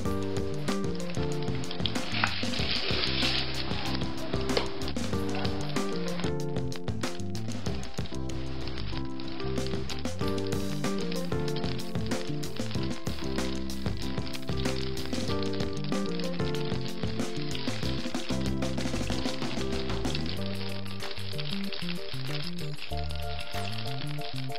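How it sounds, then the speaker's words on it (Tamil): Mustard seeds splutter and crackle in hot oil, a dense continuous sizzle full of rapid popping that holds loud and steady throughout with no voices. "கடுகு நல்லா பொரிஞ்சிருச்சு"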